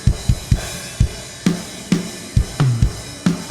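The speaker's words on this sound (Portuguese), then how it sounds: "Esse é o som da batera sem trigger" An acoustic drum kit without triggers plays a busy live worship gospel groove, punchy kicks and snare hits with cymbals, loud and close, with a natural, untriggered room sound.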